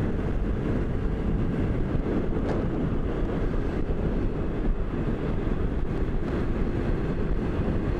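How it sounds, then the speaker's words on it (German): Riding a Vespa GTS 300 scooter, a continuous low engine drone mixed with heavy wind rush against the microphone, steady and close without pauses or voices. "Und wieder Vespa fahren."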